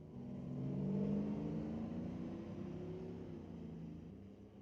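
A 1990 Pontiac and a 2007 Chevrolet Silverado launch in a drag race, engines swelling to a loud rising roar, then holding and fading slightly as they pull away.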